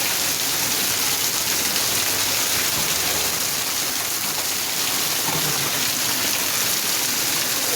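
Steady, heavy rain falls on a person showering outdoors, a dense, even hiss of drops pouring down close by with no voices.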